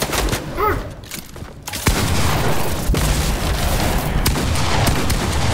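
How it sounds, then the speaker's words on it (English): Gunfire in the Fortnite video game, a dense, continuous barrage of shots and booming blasts that fills the whole stretch, loud and close, with a brief lull before it swells again. "No, they're shooting."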